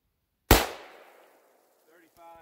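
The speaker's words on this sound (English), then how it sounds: "we are going to shoot it over the chronograph" A 7mm Remington Magnum rifle fires a single loud, sharp shot over a chronograph outdoors, the blast decaying into a long echoing tail, followed by faint electronic beeps.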